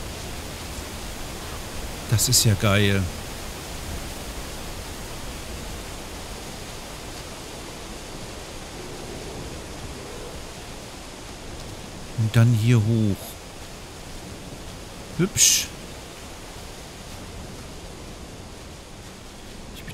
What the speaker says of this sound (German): Und dem Wasserfall.